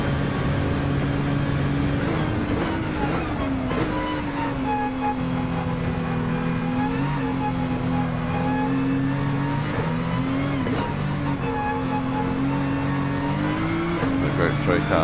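Group 1 and Group 3 race car engines in a Gran Turismo 7 one-hour endurance team event, loud sustained roar with rising and falling revs as cars run close, someone talking over it.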